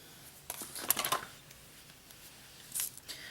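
Small scissors snip a few times in quick bursts, close and fairly quiet, with a pause before one more cut.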